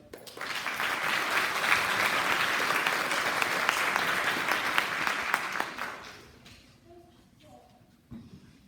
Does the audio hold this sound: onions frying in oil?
no